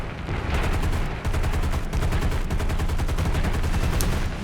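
Rapid, sustained cannon and machine-gun fire from a Grumman Hellcat fighter in War Thunder, aimed at an SU-2 bomber: dense repeating bursts, loud and close, with a brief gap near the start.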